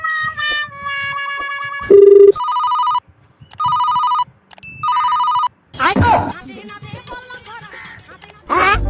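A phone's ringtone plays repeatedly in short bursts of electronic bell tones, loud and close, between stretches of people talking.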